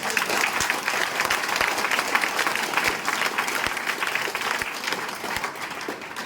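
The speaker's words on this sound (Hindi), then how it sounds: "एक बार ताली बजा दीजिए" An audience claps in a sustained round of applause at a network marketing and direct selling seminar, a dense steady patter of many hands that holds evenly from start to finish without fading.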